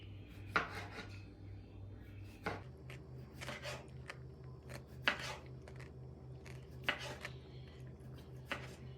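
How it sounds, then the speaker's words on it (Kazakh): A knife slices cucumber on a board while making a sandwich at home. About eight crisp, separate cuts come at uneven intervals over a low steady hum, fairly quiet and close. "Қиярды да әдемілеп турап шықты мен қызым үшін"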